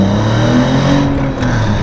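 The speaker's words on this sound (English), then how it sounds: "I'm just going to gas it again." A BMW E46 330ci with a six-speed SMG gearbox revs steadily, its engine note loud, close and sustained with a strong low harmonic drone throughout.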